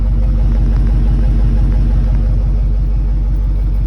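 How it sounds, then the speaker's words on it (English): A 2020 Dodge Charger Daytona with a 5.7-litre V8 idles with a loud, deep, steady exhaust rumble, heard up close and unbroken throughout. "And you got the exhaust note."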